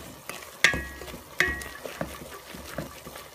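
Fresh coconut being stirred into sugar syrup in a pot: a soft, wet churning with two sharp clinks of the spoon against the pan and lighter knocks after, close by, with no voices.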